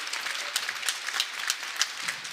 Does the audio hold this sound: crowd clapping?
yes